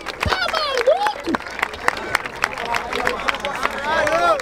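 A crowd at a rap battle semifinal applauds and cheers with scattered claps and whoops, while excited voices shout over the noise.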